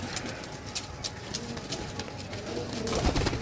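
Golden pigeons kept for sale coo softly amid a busy, noisy background of rustling, fluttering and bird movement, the calls blending into steady clutter without any talk.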